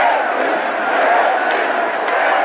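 A huge crowd of Yeltsin supporters at a Moscow rally in 1994 produces a dense, continuous roar of voices and shouting, loud and sustained with no pauses.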